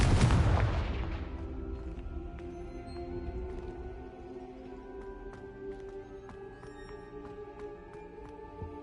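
A Confringo fire spell explodes in Hogwarts Legacy: a loud booming blast at the start that rolls into a long, decaying rumble with scattered crackles and faint tonal game ambience beneath.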